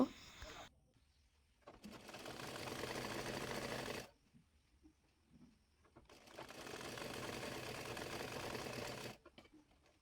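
A sewing machine stitches a hijab seam in two sustained runs of steady whirring, each about three seconds long, with quiet pauses between them and no talking over the motor.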